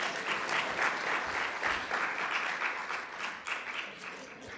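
Audience applause at the opening ceremony of a sustainable tourism conference in Grenada, a moderately distant, fairly even patter of many hands clapping with slight swells, continuing without pause.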